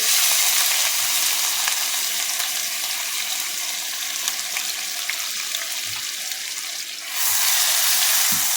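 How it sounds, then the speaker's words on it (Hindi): A medium, finely chopped onion fries with whole spices and cumin for a dhaba-style chana dal. It makes a loud, steady, close sizzle that briefly softens near the end, then returns at full strength. "तो अब मैं इसमें ऐड कर दूँगी एक मीडियम साइज़ का प्याज, जिसको मैंने इस तरह से बारीक चॉप कर लिया है।"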